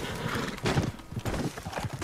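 Horse hooves clip-clopping in Red Dead Redemption 2, a Missouri Fox Trotter's quick uneven footfalls heard close over a soft ambient bed for a couple of seconds.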